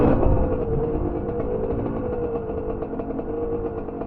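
A Kawasaki KLX250 dirt bike runs along a trail with a steady, fairly loud engine drone and small shifts in revs, heard close and alone.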